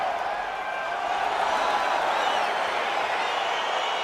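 Steady roar of a large arena crowd at the Bell Centre in Montreal in the EA Sports UFC 4 video game, a continuous broad wash of cheering at moderate volume with no distinct claps.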